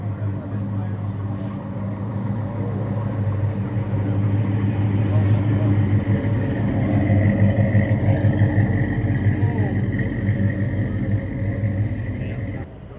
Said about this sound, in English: We've got some more cars rolling out here.